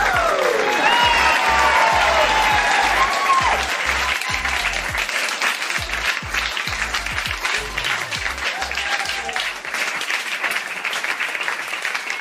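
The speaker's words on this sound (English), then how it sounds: "Applause, applause, applause." Sustained applause from a crowd, dense clapping that stays loud throughout with a few cheers mixed in.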